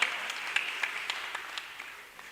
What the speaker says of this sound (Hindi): दोस्तों एक बार जोरदार तालियां रितेश भाई के लिए